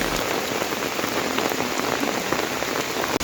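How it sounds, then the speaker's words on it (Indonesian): Strong water rushes down a roadside ditch beside the Batu Jomba road, making a loud, dense, continuous roar of churning flow close by. There is no speech. "tiba-tiba airnya sudah deras mengalir"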